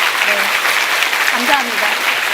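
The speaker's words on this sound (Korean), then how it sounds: "우리 약속할 수 있으면 박수 한번 칠까요?" Audience applause at a study-method lecture for students, a dense, steady clatter of clapping from a crowd that holds level for a couple of seconds, with faint voices mixed underneath.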